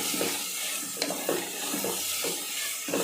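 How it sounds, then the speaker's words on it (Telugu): Brinjal, broad beans, drumsticks and tomato fry in a pan for curry, with a steady close sizzle and repeated scraping stirs of a spoon against the pan. "చక్కగా ఇవి గోల్డెన్ కలర్ వచ్చేంత వరకు వేపుకోవాలి"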